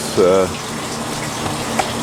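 Water drains out of a garden pipe in a short gushing burst near the start, then a low steady trickle continues faintly, with no voices.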